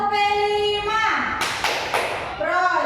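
Teachers at a small peer workshop perform the P5 clap routine: a spoken lead-in is followed by three sharp, evenly spaced group claps, then talking resumes.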